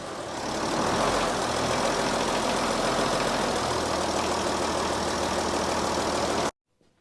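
An MTZ 1221 tractor engine idles in a steady, loud diesel rumble for about six seconds, then cuts off abruptly into near silence.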